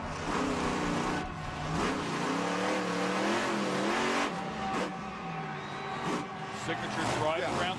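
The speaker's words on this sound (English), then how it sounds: "It is time for Tom Meents at Maximum Destruction." A monster truck engine roars and revs loudly across a stadium at a 2010 Atlanta Monster Jam freestyle show, its rising and falling drone running under an announcer's voice and crowd noise.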